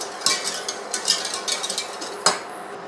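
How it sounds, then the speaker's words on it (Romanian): Milk and sugar stirred in a pot, with soft repeated scraping and light metallic taps of a utensil against the pot, close up and without talk. "Punem la fiert laptele, adăugăm zahărul, și amestecăm"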